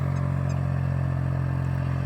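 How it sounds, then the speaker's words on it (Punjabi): A tractor engine drones steadily while pulling a harrow through a field in a John Deere 5310 versus Swaraj 855 contest: a constant low, rumbling hum with no breaks. "ਬਾਕੀ ਤੁਹਾਡੇ ਸਾਹਮਣੇ ਚੱਲ ਰਿਹਾ ਟਰੈਕਟਰ"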